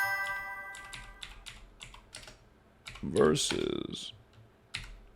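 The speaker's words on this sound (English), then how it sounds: "Slowly typing" Slow typing on a computer keyboard: a run of distinct, close keystroke clicks spaced out irregularly, with a person speaking briefly partway through.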